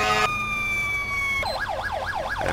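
A steady emergency vehicle siren tone in GTA 5 gives way to a rapid rising-and-falling yelp that repeats in quick, regular cycles, loud and close.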